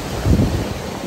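Sea wind buffets the microphone along the Davao City coastal road, a low rumbling gust swelling briefly over a soft background wash of waves.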